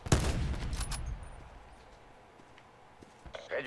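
A player's gunfire in Black Ops 4 Blackout battle royale: a few sharp, loud shots crack out at the start and trail off, followed by quieter scattered noises and a faint burst near the end.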